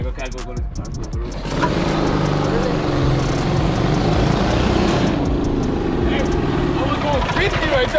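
A mini bike engine runs at a steady high pitch, close and loud, after an opening burst of rapid clicks. It continues as a constant buzzing drone.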